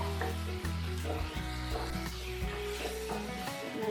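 Tomato, onion, curry leaves and spices frying as a masala for a prawn curry on medium flame, a steady close sizzle with occasional stirring scrapes throughout.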